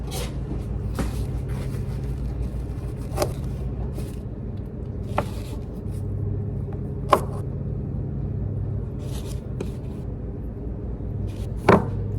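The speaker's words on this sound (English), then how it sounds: "so I'm gonna cut some of those up" A knife chops cherry tomatoes on a board in a home kitchen, with a handful of sharp isolated cuts spaced apart over a steady low background hum.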